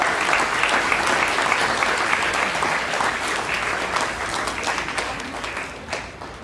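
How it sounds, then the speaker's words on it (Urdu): Loud, sustained applause fills a retirement ceremony hall, with many hands clapping densely and evenly for over six seconds. "زوردار تالیاں"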